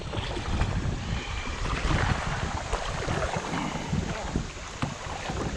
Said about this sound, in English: Little rapids.